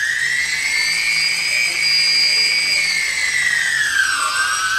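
A DJI Phantom 2 drone motor spins steadily with a high, tonal whine, sagging in pitch near the end as it slows, loud and close with no talk over it.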